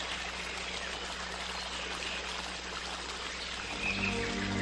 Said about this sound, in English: It is easy to be seduced by the gentle flow of water